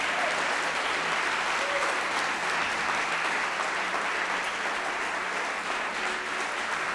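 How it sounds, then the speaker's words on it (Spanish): Sustained applause from a church congregation, a dense, even clatter of clapping that holds steady throughout. "Si puede, aplauda su presencia"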